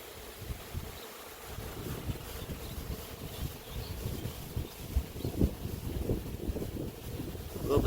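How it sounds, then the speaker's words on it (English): Wind buffets a microphone outdoors among tall trees during a honey bee swarm capture, a low, uneven rumble with gusty bumps throughout, fairly faint overall. "A little bit windy today"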